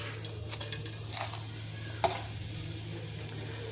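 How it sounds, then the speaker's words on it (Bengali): Cumin seeds sizzle as they are tempered in hot oil for a Bengali dhokar dalna, a soft steady fry broken by a few sharp pops and clinks of a spoon stirring the pan. "তো আগে একটু জিরে ফোড়ন দিয়ে দিই"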